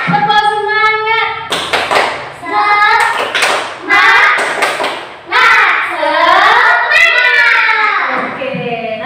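Primary-school children in a combined class chant and clap together in a call-and-response routine, short bursts of clapping punctuating their sung voices and a teacher leading.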